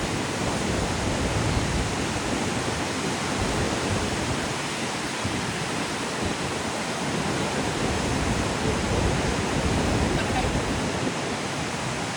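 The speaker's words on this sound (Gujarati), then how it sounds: "એટલા પ્રેશરથી પાણી આવે છે ને અહીંયા" High-pressure water rushes out at a dam in a constant loud roar, dense and unbroken for the whole stretch with no voices over it.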